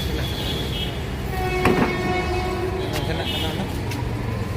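Metro train passing, a steady rumble with clicking wheels and a brief horn sound partway through, with people talking over it.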